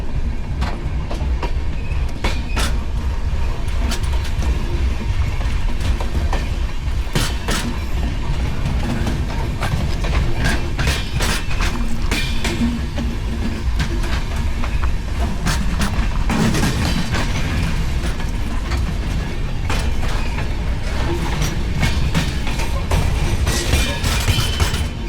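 The Sairang Express, running about an hour and a half late on the Guwahati–Mizoram line, rolls steadily along its tracks with a continuous loud rumble and periodic clacks and rattles throughout, no voices present.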